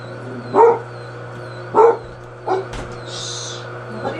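A dog barks three times at spaced intervals outdoors, sharp and fairly close, with a steady low hum underneath and a brief thump near the end.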